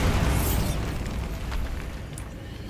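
Bombarda blast spell in Hogwarts Legacy, cast in a decaying catacomb: a deep rumbling explosion that is loudest at the start and fades into a long, low tail with faint debris crackles.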